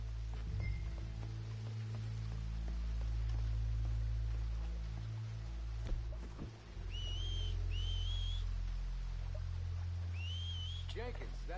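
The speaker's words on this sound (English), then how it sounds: "Make a noise. Whistle or something." A person whistles to draw enemies out in the game Red Dead Redemption II, short rising whistles repeated several times over steady rain-like ambience, clear and fairly close.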